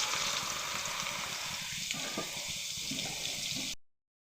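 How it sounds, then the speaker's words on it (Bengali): Soybean chunks fry in hot oil in a pan, giving a steady dense sizzle that holds for about four seconds before cutting off abruptly. "তেলে সয়াবিনগুলো ভেজে নেব।"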